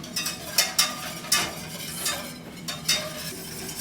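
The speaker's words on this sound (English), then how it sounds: "I'm just going to keep whisking" Banana pudding mixture being whisked in a pot, a scraping, swishing whisk with irregular bright strokes against the metal, close and fairly quiet, with no talking.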